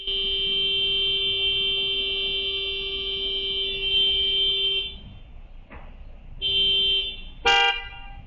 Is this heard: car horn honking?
yes